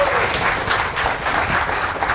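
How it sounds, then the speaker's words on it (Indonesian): An audience at a live product demonstration claps together in a steady, dense round of applause, loud and close throughout with no clear voices over it. "Tepuk tangan lu buat kita semua Bapak Ibu sekalian ya"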